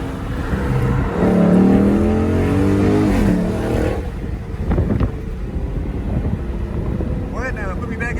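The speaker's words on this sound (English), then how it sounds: "Let you hear the difference again in that nice idle and of course the sound of the actual car" A Dodge Challenger 1320 with a Corsa exhaust rumbles loudly at idle, then the engine note rises and falls as the car drives off, with wind buffeting the microphone and a voice speaking over the noise.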